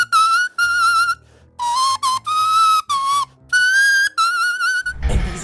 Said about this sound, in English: Now blow hard into the paper and you should hear a note.